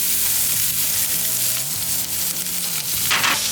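Potatoes fry on a griddle with a loud, continuous sizzle, punctuated by scraping and stirring sounds from a spatula, with no one talking.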